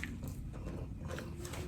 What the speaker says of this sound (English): the apple chips, the regular ones, are just nice and crispy